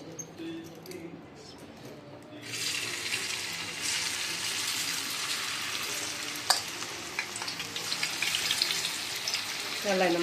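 Mushrooms hit hot oil in a pan and break into a loud, steady sizzle that fills the rest of the stretch, with faint stirring and clinks over the frying.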